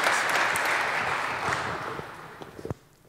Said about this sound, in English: Can we give them a little bit of a round of applause here?